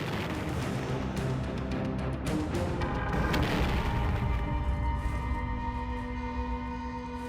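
A World War I hand grenade explosion, a dense roaring blast that fills the whole clip with broad rumbling noise and crackling debris, loud and sustained with no voices.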